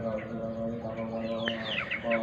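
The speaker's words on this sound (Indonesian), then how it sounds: "Ayam ini engkrok-engkrok" A sick chicken makes raspy, snoring breaths, a soft continuous rattling wheeze under faint background chirps and a low steady hum.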